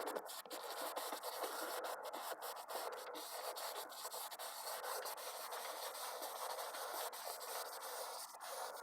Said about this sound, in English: Just scrub it in, scrub it.